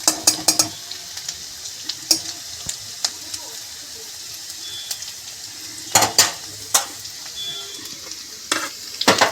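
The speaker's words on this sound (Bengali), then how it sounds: "এটা ভাজা একটু নাড়াচাড়া করি, একটু জাস্ট ভাজা হোক।" Frying in a pan for a spinach and meat dish, with a steady sizzle broken by repeated sharp clinks and scrapes of a spatula against the metal as it is stirred, close and loud.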